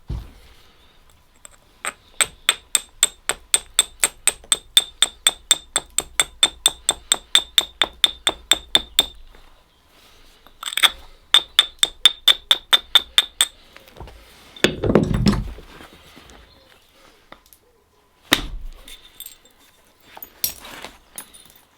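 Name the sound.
flint knapping, striking stone flakes with a big soft hammer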